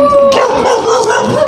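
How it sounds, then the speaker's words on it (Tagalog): A dog barks and howls outdoors at night, a short loud yelping bark close by, alone without talk. "May asong galito."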